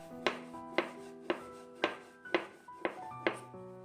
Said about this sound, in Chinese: 取出擀面杖，给它擀成一个圆形的面片